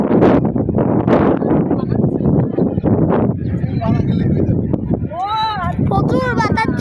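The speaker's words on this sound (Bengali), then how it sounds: "প্রচুর বাতাস চলতেছে গাইস, প্রচুর বাতাস চলতেছে।" Strong wind blows at the Taj Mahal, a steady roaring gust buffeting the microphone up close, with faint voices and higher whistling tones creeping in toward the end.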